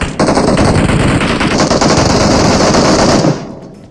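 Sustained rapid automatic gunfire in the mobile video game BGMI, loud and dense, rattling for about three seconds before cutting off into a fading echo.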